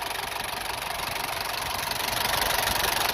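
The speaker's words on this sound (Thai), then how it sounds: "มันก็จะสั่นๆแบบนี้ฮะสำหรับเครื่องดีเทลรุ่นเก่านะครับ" An old Nissan Big-M diesel pickup truck idles with a steady rumble and rough, shaking vibration, running continuously without a break.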